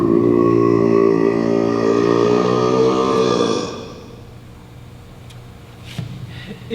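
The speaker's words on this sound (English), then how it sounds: "It was the biggest burp I had ever done." A long, loud, resonant burp from a performer on stage during a school theatre production of Matilda the Musical, sustained for several seconds and then trailing off into room noise.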